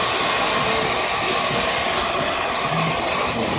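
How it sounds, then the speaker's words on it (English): A hair dryer blows continuously over a freshly dyed beard, a loud, steady rushing roar with no pauses. "I'm gonna use a hair dryer over top"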